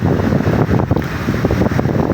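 Strong typhoon wind during Typhoon Uwan in Bohol roars and buffets the microphone in a loud, continuous, gusty rush with no pauses.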